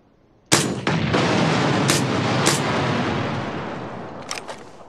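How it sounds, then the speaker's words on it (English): A grenade blast in the battle royale video game PUBG hits with a sudden loud boom, then a long rumbling roar that fades slowly, with a few sharper cracks breaking through the decay. "Let's hope I don't miss with this grenade."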